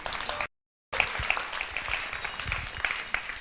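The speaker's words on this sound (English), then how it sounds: "And so big round of applause to all those who filled the form." Audience applause in a meeting room runs at moderate level, with a short dropout of silence near the start before the clapping resumes.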